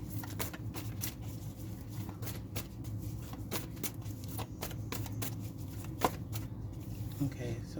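Tarot cards being shuffled and drawn make quick flurries of crisp riffling and light slaps, coming in short bursts under a person's steady talk.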